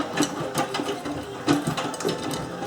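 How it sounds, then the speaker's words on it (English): A Miele W562 washing machine shifts its water path during an automatic 40°C cycle with pre-wash, giving a run of close mechanical clicks and whirring knocks, with a louder clunk partway through, over a steady background hum. "switching the water path now"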